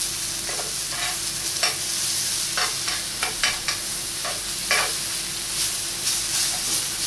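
Liver and bacon sear in a pan with a steady, bright hiss, broken by scattered crackles and occasional stirring scrapes; no one speaks.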